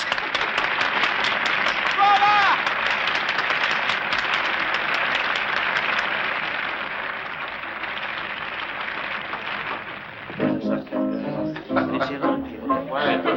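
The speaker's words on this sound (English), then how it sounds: "Now he claps." A lone person clapping hands in a theater rehearsal setting, a run of sharp claps over a steady room wash before quieter movement and clatter take over near the end.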